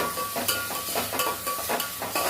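Tomatoes and curry leaves sauté with onions in a pan, a soft sizzle with rhythmic spatula scrapes and light metallic clinks repeating every half second or so, close and fairly quiet.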